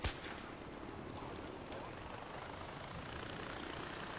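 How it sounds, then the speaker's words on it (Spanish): Flying gadget in the video game Far Cry 4 with a steady helicopter-like whirring drone, loud and continuous from a sharp onset, with a faint high whine above it and no talk. "Funciona como un típico helicóptero."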